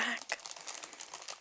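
Courgettes are handled inside a crinkly plastic bag, giving close, continuous crackling and rustling bursts with a quiet soft-spoken voice underneath.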